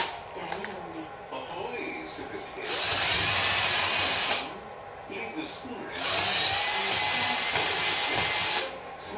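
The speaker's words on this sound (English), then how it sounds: "So if you check your drill index, a 7/64 drill bit is 110 thou. So we're going to go ahead, and it's about 3/8 inch in that we want to drill that." A power drill with a 7/64 drill bit bores a hole about 3/8 inch deep in a part for a Powerglide transmission build, making two loud, close, whining bursts separated by quieter handling noises.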